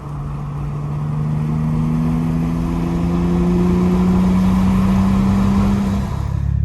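An Audi B6 A4 is driven from the cabin, its engine holding a steady loud drone whose pitch climbs slowly under acceleration, with no talking.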